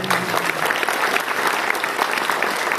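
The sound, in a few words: applause from seminar audience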